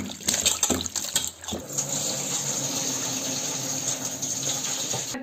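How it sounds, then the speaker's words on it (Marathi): Water pours into a cooking pot for jackfruit: a short burst of clattering handling noise, then a steady, even rush of flowing water that keeps going to the end. "पाणी टाकायचं शिजवायला"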